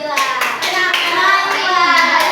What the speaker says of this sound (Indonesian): Oke, tepuk tangan untuk Nabila.